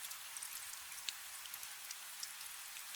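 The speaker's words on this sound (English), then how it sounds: "The rain's still falling" Soft steady rain falling, a faint even hiss of fine drops with occasional slightly louder patters, continuous and distant with no voices.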